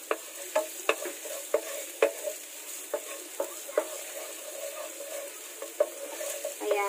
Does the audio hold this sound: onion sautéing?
yes